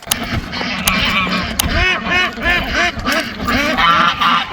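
A flock of farm ducks quacks busily as they are let out of their pen by a pond, many overlapping nasal calls near and loud in a steady chatter.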